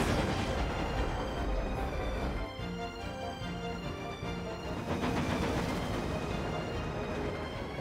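A train rumbles steadily along the rails with a continuous metallic roar and rattling, loud and close throughout.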